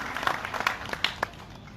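Applause welcoming Om Prakash Dhurve at a reception for newly appointed national office-bearers, a soft, distant patter of claps from the crowd, low and brief.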